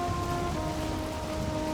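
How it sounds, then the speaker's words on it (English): Steady rain falls in Valheim, a dense, even hiss with a faint tonal hum underneath and no talking. "It is raining."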